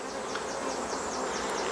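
Honey bees crowd a nuc frame, a dense steady buzz close by, with single bees' wingbeats rising and falling as they fly past.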